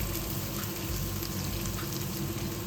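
Ingredients for a sardine curry, including curry leaves, fry and sauté gently in hot oil, giving a steady, close, continuous sizzle with no talking.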